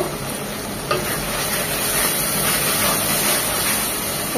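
Spice paste for beef sautés in a pan with a loud steady sizzle, and a spoon scrapes and stirs it at close range in quick strokes, with no voices.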